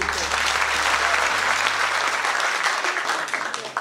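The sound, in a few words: audience applause for the list's running mates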